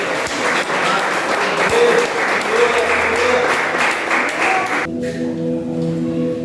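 A congregation at an evening church service held in a garage claps for the Lord, dense steady applause for about five seconds that stops abruptly, leaving quieter room sound and a faint sustained tone.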